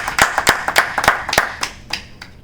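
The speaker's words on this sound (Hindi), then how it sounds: "तो एक बार जोरदार तालियां आदरणीय सरला जी के लिए।" A poetry-session audience claps in a loose rhythm, a few sharp close claps standing out before the clapping thins and fades near the end.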